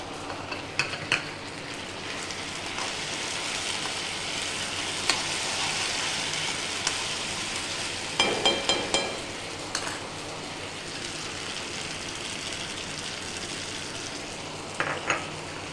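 Okra sizzles loudly in a frying pan as tomato is stirred in, a dense steady hiss close up with a few clinks from a spoon against the pan.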